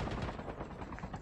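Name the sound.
gunfire in video game Call of Duty Mobile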